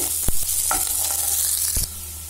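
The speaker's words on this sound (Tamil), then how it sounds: "ஆனியன் போட்டுக்கலாம். ஆனியன் கொஞ்சம் நல்லா வணங்கட்டும்." Onions sauté in a pan with a bright, continuous sizzle, broken by a couple of sharp knocks from the stirring spoon, before the hiss cuts off abruptly near the end.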